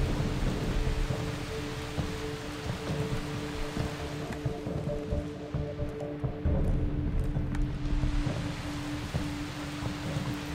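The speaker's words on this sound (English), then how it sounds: "All of a sudden just started raining." Steady rain and rolling thunder from a Far Cry 3 gameplay storm, a continuous broadband wash with low rumbles holding throughout at moderate level, no talk over it.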